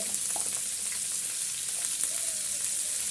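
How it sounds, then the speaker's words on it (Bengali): Cauliflower florets sizzle steadily in hot oil in a home kitchen pan, a continuous bright crackling hiss that stays even throughout with no speech. "তেলে আমি ফুলকপিগুলো সব দিয়ে দেব এই ফুলকপিগুলো দিয়ে আমি ভেজে নিচ্ছি"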